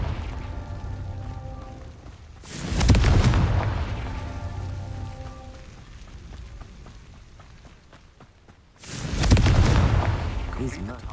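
Confringo explosive curses cast in Hogwarts Legacy go off as two loud, close booming blasts several seconds apart, each with a rumbling tail, over quieter ambience between them.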